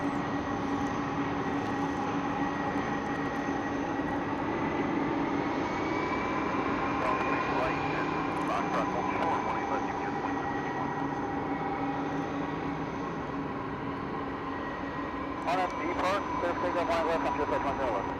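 A Korean Air Boeing 787 Dreamliner arriving at DFW airport roars steadily overhead with a broad jet whine that shifts in pitch as it passes, while people talk throughout.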